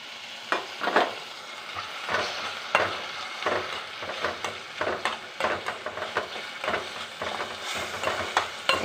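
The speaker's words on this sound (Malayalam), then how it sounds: "ഉള്ളിയും തക്കാളി, ഇഞ്ചി, പച്ചമുളക് ഒക്കെ കൂടി" Onion, tomato, ginger and green chili sautéing in a pan, a steady sizzle broken by repeated scraping stirs at an irregular rhythm, close and fairly loud, with no talking.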